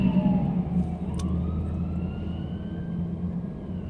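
Two fire trucks pass with sirens sounding, a long sliding wail that bends downward as they go by, set over a steady low road rumble with no voices.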